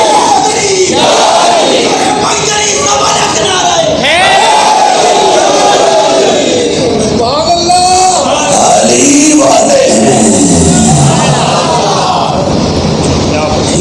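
At a Shia religious gathering, a massed crowd repeatedly bellows the Naara-e-Haidari slogan, loud overlapping voices swelling and dipping in several long unison chants that carry on without pause.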